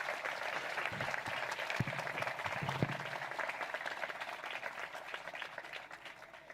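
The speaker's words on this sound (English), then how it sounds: "Graduates, let's give your parents a round of applause for all the ways they helped get you to this stage." Sustained applause from a high school graduation crowd honoring the graduates' parents, dense steady clapping filling the hall throughout with no pauses.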